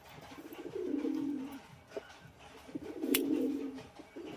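Pigeons in a breeder's loft coo in two drawn-out rolling phrases, close and moderately loud, with a few soft clicks and rustles between them and no talking.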